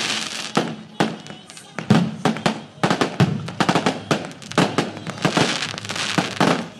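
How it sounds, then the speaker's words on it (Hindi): Rapid bursts of fireworks crack and pop in irregular clusters, loud and close, with a crowd murmuring faintly underneath. "भारत के खिलाफ तारीखी फतह पर शानदार आतिशबाजी का मुजाहरा किया गया"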